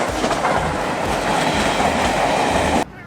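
A loud train rumbles past on the tracks with a continuous roar and rattling wheels, cutting off abruptly at the end.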